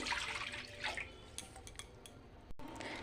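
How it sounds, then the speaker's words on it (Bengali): Water from a measuring cup poured into a wok set on a gas stove, a short splashing pour with light clinks of metal cookware, close by and without talk. "প্রথমে গ্যাসে কড়াই বসিয়ে দিলাম এখন এক পাটি জল দিয়ে দেবো"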